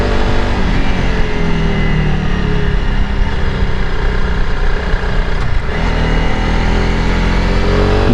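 A Honda CRF300L Rally motorcycle on an off-road backcountry route gives a loud, steady engine roar up close while riding, with a brief dip in pitch that suggests a gear shift near the middle.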